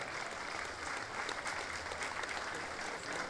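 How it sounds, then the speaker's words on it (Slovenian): An outdoor crowd applauds a wind brass band at a town fair, a fairly faint but steady patter of many hands clapping throughout. "En aplavz za godbo in tudi za njega."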